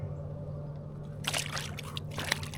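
A caught striped bass released back into the water of Lake Guntersville, heard as a couple of brief splashes and sloshes midway through, over a low steady hum of boat or background noise.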